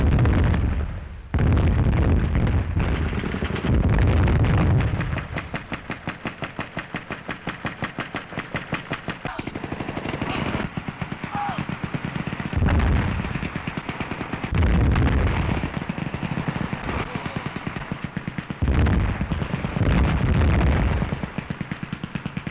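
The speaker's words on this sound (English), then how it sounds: "The unexpected brutality of warfare was a result of new artillery and deadly machine guns" Battle sounds from the World War I film All Quiet on the Western Front: dense, continuous artillery blasts and rattling machine-gun fire, with heavy booming bursts recurring throughout, loud and close, with no talk.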